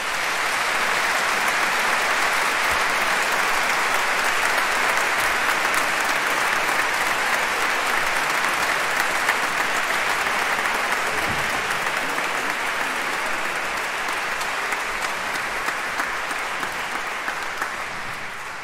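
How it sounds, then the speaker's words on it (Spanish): Sustained, dense applause from a large audience, steady and loud for the whole stretch with no voices standing out. "También para ellos un fuerte aplauso"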